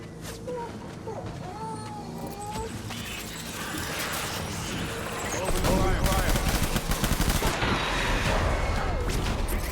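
Rapid automatic gunfire and scattered shots from the video game Death Stranding crackle through a dense, noisy firefight, growing louder and more sustained in the second half, with voices shouting over the battle.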